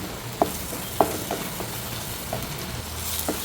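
Boiled button mushrooms sautéing in a pan, a soft steady sizzle with a few sharp clicks of a spoon scraping and stirring against the pan.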